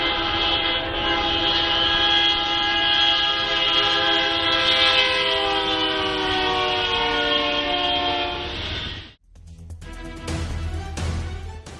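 A loud train horn blares in one long sustained blast as the train nears a truck at a crossing in Brazil, then cuts off to rumbling and clattering of passing rail cars.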